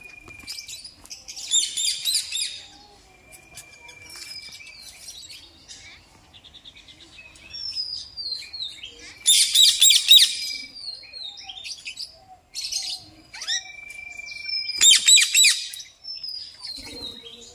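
Several birds chirp and tweet in bright bursts in Parmadan Forest, Bibhutibhushan Wildlife Sanctuary, with clusters of rapid calls every few seconds and thin whistles in between, fairly close and clear.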